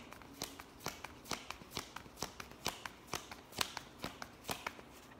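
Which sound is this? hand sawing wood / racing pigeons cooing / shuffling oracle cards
shuffling oracle cards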